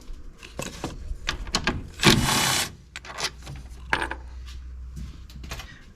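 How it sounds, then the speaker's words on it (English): Metal bolts from a VW 2.5 engine dropped into a tray one after another, a series of close clinks and rattles with one louder, longer clatter near the middle. "I'll leave those in the tray."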